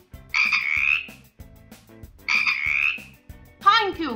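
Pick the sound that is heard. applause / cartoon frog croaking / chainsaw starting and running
cartoon frog croaking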